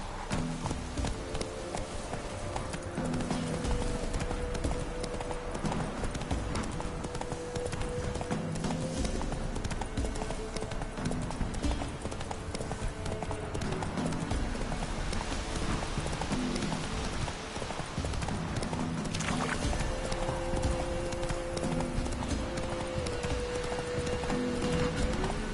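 Roach the horse running in the video game The Witcher 3, a steady rapid clip-clop of hooves over rain and ambient game sound, continuing for the whole stretch with faint background noise.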